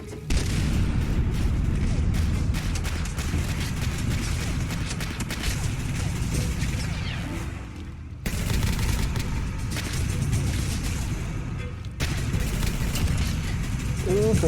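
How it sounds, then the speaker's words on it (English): Grenade explosions in a heavily modded Fallout 4 survival run, a dense, loud barrage of booms and crackling gunfire that continues almost without pause, with brief breaks and a voice heard at times. "I'm gonna toss some grenades inside."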